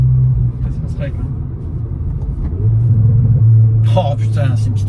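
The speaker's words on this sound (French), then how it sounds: "mettent juste simplement un pop and bang pour avoir un petit pop-pop" A Hyundai i20N idles with a low, steady exhaust rumble, then a short cluster of sharp pops and crackles bursts out near the end of the clip.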